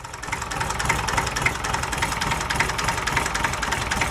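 A Perkins 3.152 boat diesel engine runs at steady idle, close and loud, with a dense rhythmic knocking clatter throughout.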